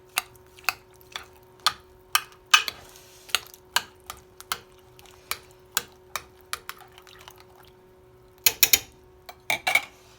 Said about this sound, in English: Alright, so we're going to mix this up.